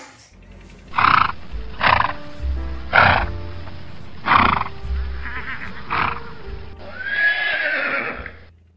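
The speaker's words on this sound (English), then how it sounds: "H for horse." A horse whinnies and neighs in a series of loud, separate calls, about six bursts with short gaps between them, ending in a longer drawn-out neigh.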